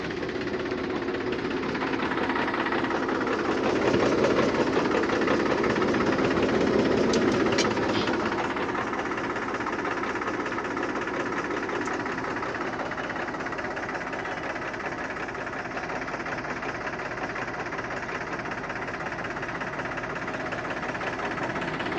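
A 2011 Mahindra 42 hp tractor engine runs steadily throughout, a continuous loud mechanical rumble with a dense knocking rhythm, swelling slightly in the first seconds before settling into an even idle.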